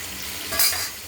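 Bay leaf, dried chilli and nigella seeds hit hot oil in a pan, a brief, soft sizzle that flares for a moment with a quick stir.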